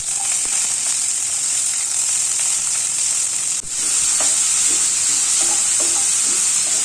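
Curry leaves and chopped onion drop into hot oil with popped mustard seeds, giving a loud steady sizzle and frying hiss with brief stirring clatter from a pan.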